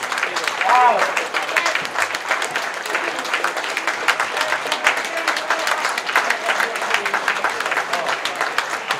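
Audience applause for an instrumental rock band at a 2018 Nastola twangy-guitar event: dense, steady clapping from a crowd carrying on throughout, with a few voices mixed in.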